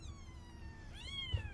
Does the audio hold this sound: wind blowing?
no